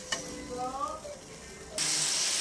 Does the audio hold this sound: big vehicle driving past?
no